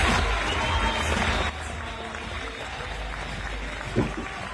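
Applause rings out at the Golden Globes awards ceremony as Timothée Chalamet wins, a dense, steady wash of clapping from a large audience that dips slightly partway through, with faint crowd murmur and a brief louder spike near the end.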